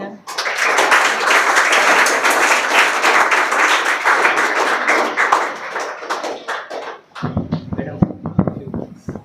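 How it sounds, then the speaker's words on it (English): Audience applause at a school confidence-building program, dense clapping filling most of the stretch, then thinning into scattered individual claps and taps near the end. "Everyone clap for madam."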